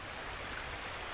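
Rainfall in The Last Plague: Blight, a dense, even patter of drops hissing steadily over a short stretch with no speech.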